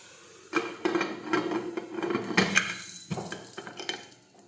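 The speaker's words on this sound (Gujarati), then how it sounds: "હવે આપણે કુકરનું ઢાંકણ છે તે બંધ કરી દઈશું." Metal clanks and knocks as a pressure cooker lid is fitted and closed over a brinjal curry, a series of close, sharp clatters and scrapes of cookware with no talking.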